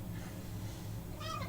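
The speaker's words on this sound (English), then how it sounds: "our special guest is Irie, my kitty" A pet cat named Irie meows once near the end, a short, clear, close call over a low steady room hum, with no talking.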